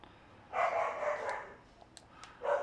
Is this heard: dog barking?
yes